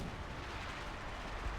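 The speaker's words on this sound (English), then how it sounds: "The real problem though is the Katyushas and the mortars." Barrage of Katyusha rockets and mortars firing in a battle video game, a dense continuous roar of low booming blasts with no voices over it.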